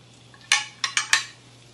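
A fish fillet turned over in a pan: a few quick metallic scrapes and taps of a spatula, four short clattering bursts in close succession over a faint steady hum.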